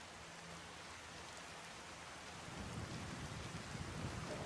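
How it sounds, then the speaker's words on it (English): Rain falls in the video game Skyrim as a steady, broad hiss that thickens partway through, with a low rumble of thunder rolling underneath. "It's beginning to rain."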